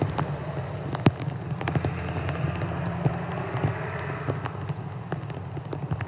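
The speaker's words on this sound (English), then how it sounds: "Pouring down rain, but yet these things are on fire." Steady pouring rain falls in footage of burning ballot drop boxes, a dense continuous patter on surfaces with scattered sharper drops throughout and no voices.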